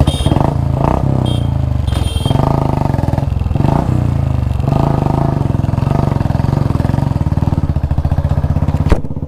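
A Royal Enfield Bullet motorcycle on a full tank of petrol revs up close and loud in repeated bursts, its thumping engine rising and falling with clattery mechanical noise, ending in a sharp click.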